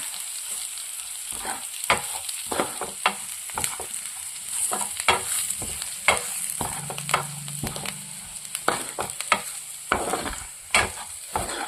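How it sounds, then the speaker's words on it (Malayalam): Spice powders sizzle and fry with sautéed onions in a pan for a tomato curry, with a steady hiss broken by frequent close stirring scrapes and taps; no talking. "നമുക്ക് അതിനകത്തോട്ട് പൊടിയിലിട്ട് കൊടുക്കാം."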